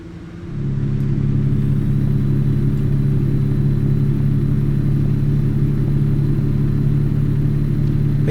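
A truck engine in American Truck Simulator rumbles while driving, a loud, steady low drone that rises in within the first moment and holds unchanged to the end.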